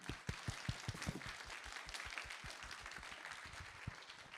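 An ophthalmology lecture audience applauds the speaker, a doctor, giving a fairly faint round of steady, even clapping from a modest crowd that keeps going through the whole stretch.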